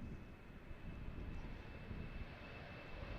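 Aircraft on the runway at Amsterdam Airport, a distant, steady low engine rumble with a faint thin whine above it, continuous and without talk.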